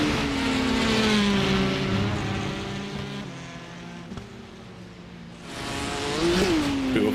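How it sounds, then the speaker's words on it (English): Touring car engines racing around the Nürburgring in iRacing, a loud continuous roar with rising and falling revs as cars pass close by, sustained throughout with no talk. "The noise of the engines is just phenomenal as well."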